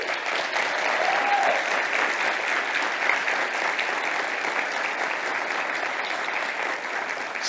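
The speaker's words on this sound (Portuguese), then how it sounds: "Eu queria chamar aqui, nesse palco, e uma salva de palmas tremenda, Giovanni Carneiro." Sustained applause from a large audience at a Brazilian gastronomy conference, steady and dense for the full length as a chef is called to the stage, with no speech over it.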